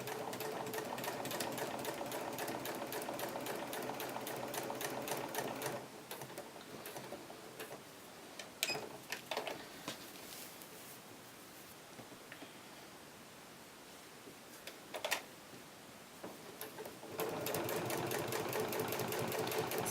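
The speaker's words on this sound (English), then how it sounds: "Doing a little locking stitch there at the beginning," A sewing machine runs fast and steady while stitching vinyl for nesting baskets, its rapid needle ticking loud and continuous, then pausing for a quieter stretch of short locking stitches and handling rustle before the full-speed run resumes.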